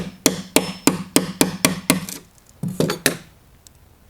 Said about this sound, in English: I'll be able to use a hammer and tap my chisel.